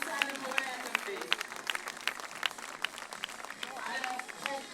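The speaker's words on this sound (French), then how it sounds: "il faut les applaudir" Crowd applause for the volunteers at a summer gathering of French towns named Saint-Laurent, held outdoors in Saint-Laurent-de-Gosse, with steady dense clapping and a few sharper claps standing out throughout.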